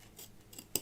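Scissors snip thread at an embroidery hoop during in-the-hoop machine embroidery of a mug rug: two faint, quick snips followed by one sharper, closer cut near the end, with no talking.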